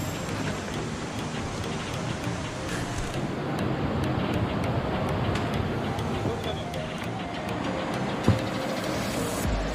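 Bada Ghagara waterfall in Keonjhar, North Odisha, swollen with rainy-season water, gives a steady, dense roar that holds evenly from start to finish, close and loud.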